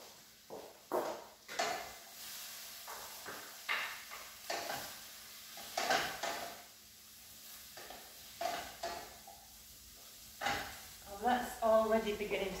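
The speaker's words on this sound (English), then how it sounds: "So I'm just going to put the garlic in." Garlic goes into a hot pan for a vegetable chilli and sizzles faintly, under repeated utensil scrapes and stirring knocks that come in irregular bursts, with a voice speaking intermittently.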